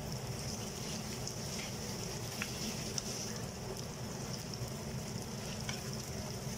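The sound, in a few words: mutton liver frying on a tawa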